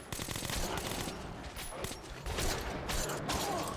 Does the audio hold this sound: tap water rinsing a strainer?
no